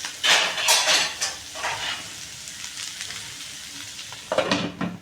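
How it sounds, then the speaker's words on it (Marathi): Val papdi beans cook in a pan over low heat, with soft sizzling and steamy hissing broken by a few brief stirring and clattering bursts, close and fairly loud. "आता आपण नुसतं याच्यावर वाफेवर शिजून शिजून देणार आहोत"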